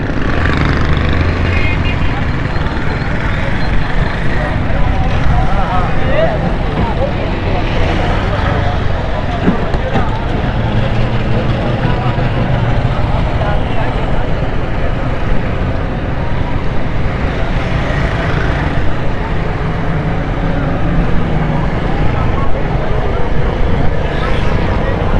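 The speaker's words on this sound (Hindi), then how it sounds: "अभी तक मोटरसाइकिल की पार्किंग चल रही है देखें" Motorcycles moving through a crowded parking area at an ijtema gathering in Orangi Town, Karachi, producing a loud, continuous wash of engine drone and crowd noise with no single vehicle standing out.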